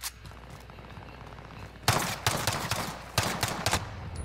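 Gunfire in a shooter game: after quiet ambience, clusters of sharp distant-sounding shots ring out in quick bursts and separate cracks, loud and irregular.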